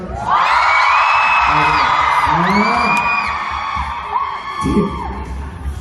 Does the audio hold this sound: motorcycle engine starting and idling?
no